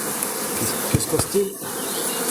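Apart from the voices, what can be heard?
honeybees swarming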